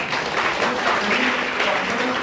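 An audience at a national conference on women's entrepreneurship claps in sustained, dense applause, loud and steady throughout with no pauses.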